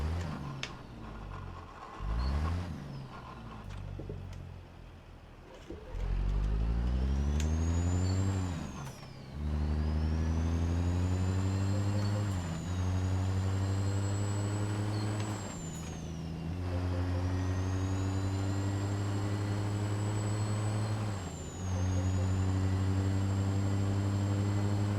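A modded truck engine in a video game, with packs such as a C15, Cat 3406B, DD60 Series and N14, roars with repeated revs and a deep chugging Jake brake. Rising and falling pitch sweeps come in cycles, loud and close, with no talk.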